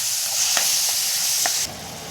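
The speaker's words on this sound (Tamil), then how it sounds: "இதையும் நல்லா வதக்கி விட்டுக்கலாம்." Onion and tomato sautéing in a pan for a Chettinad banana-flower dumpling kuzhambu, a steady close sizzle with a couple of soft stirring scrapes before the sound drops away near the end.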